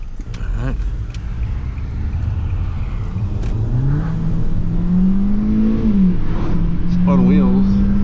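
Kia Soul engine revving hard as it accelerates with wheels spinning, a rising engine tone climbing steadily under brief background sounds.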